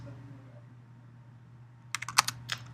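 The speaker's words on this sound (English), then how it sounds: "if we run the command line and I type cf apps" A computer keyboard clicks through a short burst of typing as a command-line command is entered, quick close keystrokes arriving after a quiet stretch with a low hum underneath.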